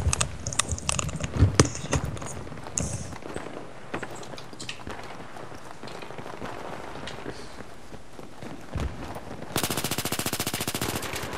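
In Battlefield 3, a gun fired from the hip lets off a rapid, evenly spaced burst of automatic fire near the end, after scattered in-game footsteps, clatter and thuds.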